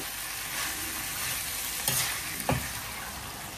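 Curry sautéed in a pan with steady frying sizzle and a couple of scraping stirs partway through, close and moderately loud, no voices.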